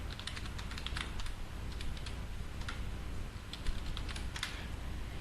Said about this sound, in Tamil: இப்ப நம்பர்ஸ் நீங்க டைப் பண்ணிட்டே இருக்கீங்க.